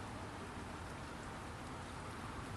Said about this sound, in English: It's starting to rain a bit.